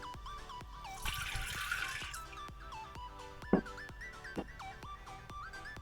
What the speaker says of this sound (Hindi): इसमें डालेंगे 1 गिलास पानी